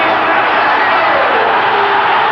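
Boxing arena crowd on its feet in round 10 of a heavyweight bout, roaring and cheering in a loud, dense, continuous wall of noise that stays steady throughout.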